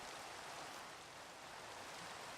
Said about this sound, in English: It would be raining.